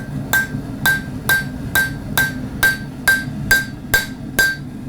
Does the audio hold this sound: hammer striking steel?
yes